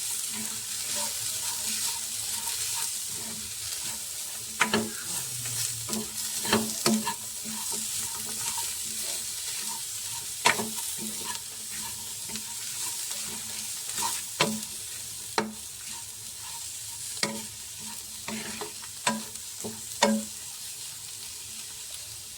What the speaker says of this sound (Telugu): మన క్యాబేజీ అయితే లైట్గా ఫ్రై అయింది కదా